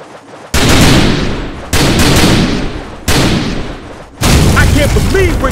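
Gunfire in The Typing of the Dead: Overkill, four loud, booming volleys in uneven succession, each trailing off before the next, with a voice speaking briefly at the end.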